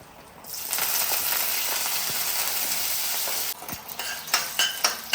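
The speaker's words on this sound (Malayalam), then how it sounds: "നമ്മൾ കടുകൊക്കെ ഒന്ന് പൊട്ടട്ടെ കേട്ടോ" Mustard seeds hit hot coconut oil in a pan and set off a loud, continuous sizzle, which thins after a few seconds into scattered sharp pops and crackles as the seeds burst.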